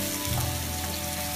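Vegetables for vegetable macaroni frying in a pan, a steady close hiss and crackle that fills the whole short moment without pause.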